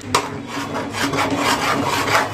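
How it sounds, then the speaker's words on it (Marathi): Besan pithla, a Maharashtrian gram-flour dish, stirred continuously in a pan with a spoon: steady rhythmic scraping and rubbing strokes, close and fairly loud, with no talk. "तुम्ही 10 ते 15 मिनिटं हे बेसन असं हलवून राहा"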